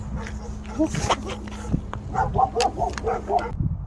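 A dog barking and yipping in short bursts, near and moderately loud, over a low steady hum, with some voice-like sounds mixed in.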